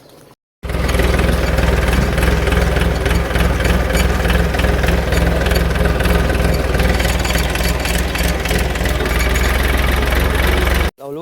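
A tractor engine runs loud and close with a rough, rapid diesel knocking that holds steady for about ten seconds before cutting out.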